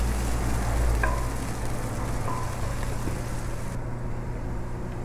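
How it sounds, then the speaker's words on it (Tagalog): Chopped onion frying in oil and being stirred until golden brown, a steady close hiss with a low hum underneath and a few faint clinks. "Halo-haloin lang natin hanggang mag golden brown ang ating sibuyas or onion"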